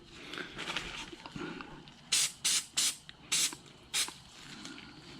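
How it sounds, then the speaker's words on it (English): Five short, sharp hissing bursts of aerosol filter oil sprayed onto a K&N air filter in quick succession, close up, over faint background noise and handling sounds. "it's just as easy to spray it a couple times"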